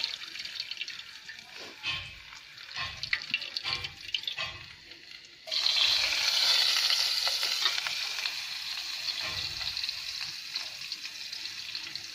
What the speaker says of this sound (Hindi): इसको तेल में भूनेंगे अच्छे से